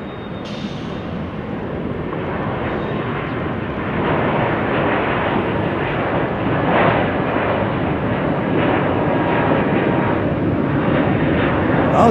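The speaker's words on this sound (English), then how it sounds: "Oh, Cessna 402" A Cessna 402 twin-engine commuter plane flies past, a loud, broad engine roar that swells gradually and holds steady, close and continuous with no talking.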